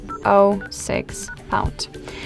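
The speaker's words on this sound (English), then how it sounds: "We have to open the dialer, which will allow us to enter the code, and the code is *##06#." Keypad tones from a Xiaomi Redmi Note 12S phone dialer as a code is entered, a few short beeps in quick succession alongside a nearby voice.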